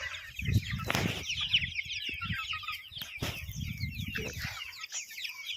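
Chickens cluck and peck close by while eating rice, with bursts of flapping wings and scattered soft pecking sounds.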